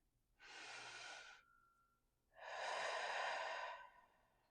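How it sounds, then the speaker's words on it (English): A deep guided breath drawn in through the nose, a short pause, then a longer, fuller exhale out through the mouth, close and soft with no talking. "breathe in through the nose and out through the mouth"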